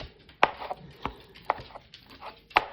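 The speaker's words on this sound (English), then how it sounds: "the reason why I'm chopping this up is because I had very, very, very large pieces of chicken from the rotisserie" Knife chopping rotisserie chicken on a cutting board in a home kitchen, a series of sharp, irregular thunks spaced about half a second apart, close and fairly loud with no talking.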